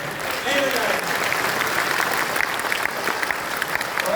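Audience applause in a meeting hall in Rewa, a dense, steady clapping from many hands lasting the whole stretch, fairly near, with some voices faintly underneath.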